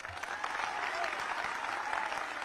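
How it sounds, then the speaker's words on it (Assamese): An audience at an outdoor devotional gathering on the Eraltali field applauds for the central security forces, and the dense, even clapping continues steadily throughout. "কেন্দ্ৰীয় সেৱা বাহিনীৰ বাবে জোৰদাৰ হাত চাপৰি লাগে"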